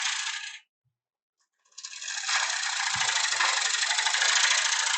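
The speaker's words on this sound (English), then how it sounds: "Another pull cut towards me, a draw cut." Woodturning lathe gouge making a pull cut across a wooden platter: a steady, bright hissing scrape, briefly stopping then resuming and continuing evenly.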